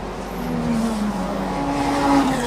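Race cars in the Thailand Super Compact Production and Showroom class howl around the Bangsaen street circuit, a steady loud engine drone with rising and falling pitch as cars pass close by.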